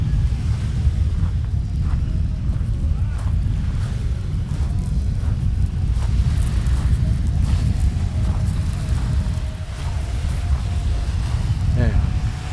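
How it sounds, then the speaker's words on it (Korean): Wind-driven waves break on the Sea of Galilee shore in a continuous low rumbling wash under heavy gusts of wind across the microphone; a voice briefly speaks. "갈릴레아가 호수라고 하는데 바람이 불면 이렇게 파도가 쳐요"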